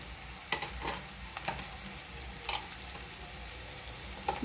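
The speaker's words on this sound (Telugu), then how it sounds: "ఉల్లిపాయ అంతా పచ్చివాసన పోయే వరకు కాస్త మగ్గనివ్వాలి." Chopped onion and coarsely crushed unpeeled garlic softening in a pan, a low steady sizzle broken by a few sharp scrapes of stirring, close by and without talk.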